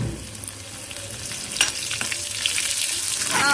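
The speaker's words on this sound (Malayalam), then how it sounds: "നമുക്ക് ഇതിലേക്ക് കരിവേപ്പില അതിൻ്റെ തണ്ടും കൂടെ ഞാൻ ഇട്ട് കൊടുക്കുന്നുണ്ട് കേട്ടോ" Curry leaves with their stems hit hot oil for a Kerala-style parippu curry, giving a bright sizzle that swells and crackles louder toward the end, close up and without talk.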